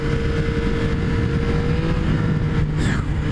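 A 2017 Yamaha FZ-09 motorcycle engine pulls in second gear, a loud, close, steady rumble with a sustained engine tone and rushing wind, running unbroken with no talk.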